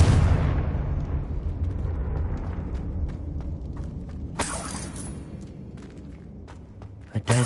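A Confringo fire spell bursts in a wizarding video game inside a witch's tomb, opening with a heavy low blast that rumbles away, then a sharp crackling shatter midway and scattered thumps and pops.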